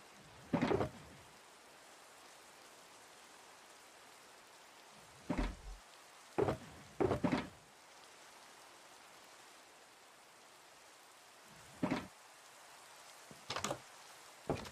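Game rain hisses as a steady, faint wash through the whole stretch, broken by several sudden loud thumps and clatters from the game.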